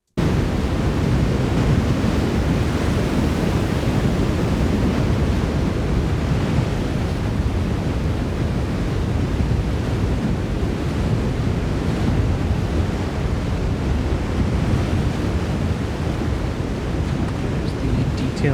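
Steady wash of ocean surf with broad, hissing noise and rolling wave swells, continuous and fairly loud, like synthetic beach ambience.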